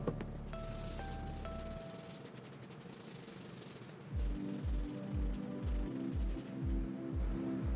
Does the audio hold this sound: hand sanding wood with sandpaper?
yes